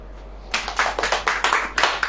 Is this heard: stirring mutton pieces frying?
no